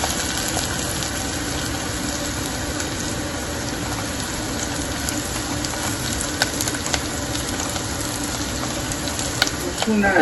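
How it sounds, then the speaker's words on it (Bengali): Onions sautéing in a pan for chicken kosha, giving a steady, dense sizzle throughout with occasional louder crackles near the end, under a faint voice in the background. "So the onions are being sauteed."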